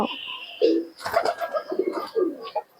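Giribaz pigeons coo nearby in a series of soft, throaty, rolling calls, with a faint chirp at the start.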